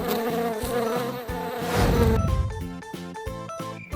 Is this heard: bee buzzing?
yes